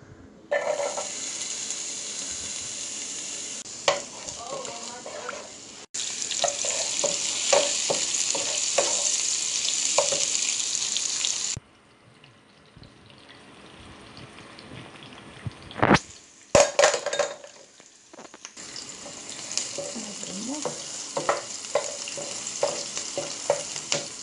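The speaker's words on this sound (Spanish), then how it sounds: "voy a empezar friendo la cebolla y el ajo" Chopped onion and garlic sizzle and fry in a pan, a steady hiss broken by stirring clatter and utensil knocks, with a brief quieter stretch before the sizzling picks up again; nobody speaks.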